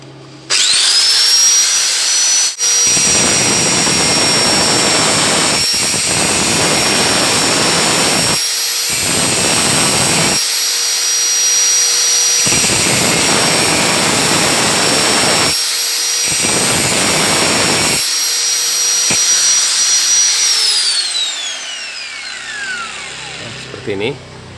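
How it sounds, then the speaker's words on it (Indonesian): Angle grinder cutting down the tip of an iron rod during a Supra 100cc tensioner fix, a loud high whine grinding in several bursts with brief pauses between, then winding down at the end. "lalu kita kecilkan ujung bagian ujung ini sedikit menggunakan gerenda ini"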